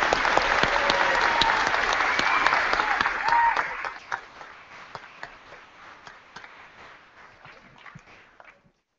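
Audience applause at a University of Maine at Presque Isle commencement, a dense, loud wash of clapping for a singer-songwriter that thins out after about four seconds into scattered claps before fading away.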